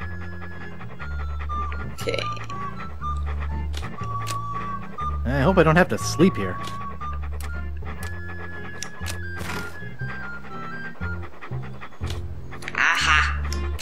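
A dog named Walt in Monkey Island 2 keeps up a steady panting over the game's chunky looping music, while a person briefly talks over it partway through.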